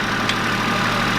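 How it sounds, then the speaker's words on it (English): Small old Kubota tractor engine idling in a barnyard during cleanup, a steady, loud, low rumbling drone with an even, unchanging tone and no voices. "This man is amazing what he can do with this little old Kubota tractor."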